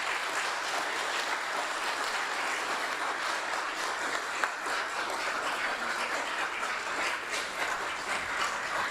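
An audience applauds at a fire department promotional ceremony, steady dense clapping heard from a distance and sustained throughout.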